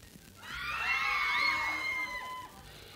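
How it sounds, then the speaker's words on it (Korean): A studio audience at a K-pop music show taping lets out a sustained, wavering group boo that swells and fades over about two seconds, moderately loud in the room. "야, 야유 같다, 이거"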